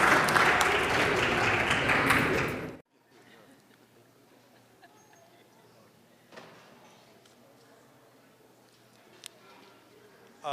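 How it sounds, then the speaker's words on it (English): An audience at a gathering honoring prominent Sikhs in the USA breaks into loud, dense applause that stops abruptly after about three seconds, followed by a quiet room with scattered small knocks. "Give them a round of applause."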